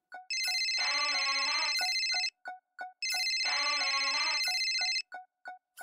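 A mobile phone rings with a bright electronic ringtone, two long melodic bursts of about two seconds each separated by short clicky beeps, clear and close with no talking over it.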